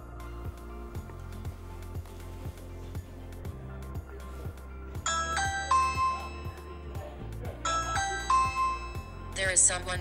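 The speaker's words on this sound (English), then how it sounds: "let's test the applet by pressing the doorbell." A doorbell chimes twice in a ding-dong pattern over a steady background hum, with a brief higher electronic tone at the very end.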